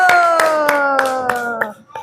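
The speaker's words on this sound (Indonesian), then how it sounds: "Oke, tepuk tangan dulu." Classroom children clap hands in a short burst of about six sharp, evenly spaced claps, close and fairly loud, while a sustained tonal voice or melody carries underneath.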